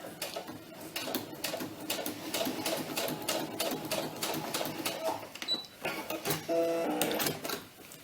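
Sewing machine stitching vinyl sheet with a J presser foot, a fast rhythmic mechanical patter of needle strokes, close and moderately loud, with a brief pause and a few small clicks near the end.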